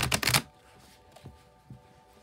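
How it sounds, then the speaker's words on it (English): A tarot card deck is riffle-shuffled, making a loud, close burst of rapid flapping at the start, followed by a few faint taps and quiet handling, with no voices. "I'll shuffle till the deck feels ready, then I'll cut"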